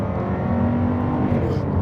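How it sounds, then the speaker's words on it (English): A Jaguar F-Type sports car engine revs hard in a steady, loud, continuous roar with a rising tone and a thick, rumbling low end. "The only real issue with this engine is that it's great when revved out"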